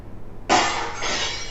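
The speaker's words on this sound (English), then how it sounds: "That's a glass break" A single sharp crash of glass breaking, loud and close, followed by a bright scattering of shards that tails off over about a second, with no voices.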